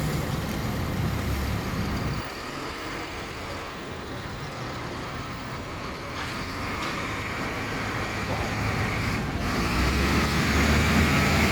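A car drives under a bridge past an active construction site, with a steady roadway rumble and traffic noise that drops briefly before building again as the car rolls on.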